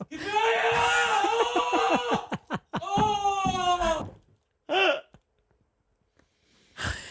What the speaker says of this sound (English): it's a foreign sounding scream